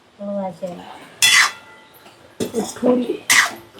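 Metal lid set down on a cooking pot, two bright clanks about two seconds apart, close and loud, with a person speaking in between.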